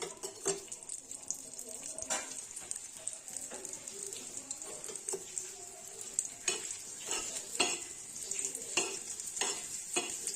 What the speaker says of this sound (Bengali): একবারে দেখুন লাল লাল করে একদম ভাজা হচ্ছে